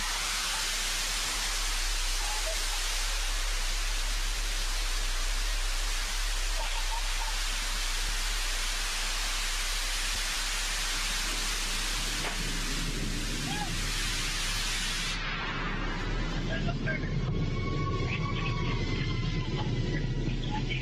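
The Blue Origin New Shepard rocket booster fires its engine during landing, a loud, continuous broadband roar filling the whole span, cutting to a quieter rumble near the end.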